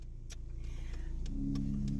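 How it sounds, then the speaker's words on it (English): A diesel tow truck engine idles close by, a steady low rumble that grows slightly louder and rougher partway through, with faint regular ticks over it and no talking. "as you can tell, these are diesel trucks"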